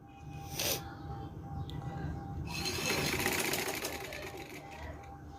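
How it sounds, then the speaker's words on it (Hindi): A sewing machine stitches the lining and upper part of an Eid dress together along the neckline, running in a steady close whirr with a brief burst of rattling near the start. "और सिलाई लगाते जाना है।"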